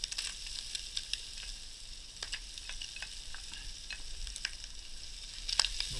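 Onions, garden chilli and capsicum sizzling in a pan, a steady close crackle and hiss with occasional sharp pops and stirring scrapes.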